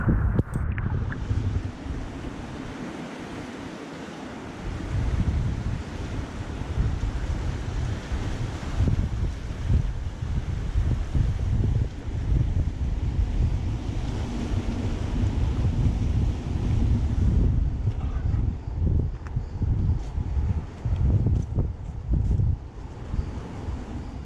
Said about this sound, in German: Die einzige Geräuschkulisse bildeten das Wasser und der Wind.